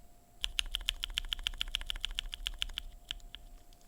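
Typing on stock Pewter linear mechanical keyboard switches, a quick even run of about twenty crisp, close keystrokes, followed by a few slower taps, with no talking.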